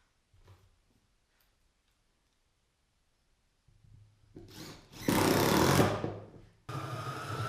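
Cutting 1-inch square steel tubing held in a jig against a stop: after near silence and a low motor rise, a loud, harsh cutting burst lasts about a second and a half, then rougher noise continues.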